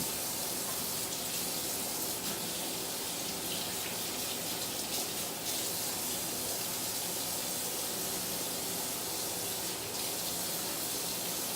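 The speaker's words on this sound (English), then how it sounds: "I might wet it a little bit more" Water running steadily onto hair during a curly-hair wash routine, a continuous close hiss and splash with no pauses.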